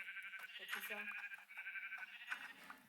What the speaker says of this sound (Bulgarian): Овци!